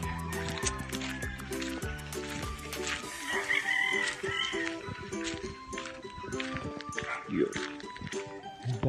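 Chickens and roosters at a hacienda cluck and crow in the background, steady and moderately loud, under almost continuous talking.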